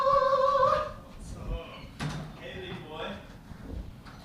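Someone arrives at a door during a podcast recording: a few soft thunks and knocks follow an opening tone, with voices talking faintly around them.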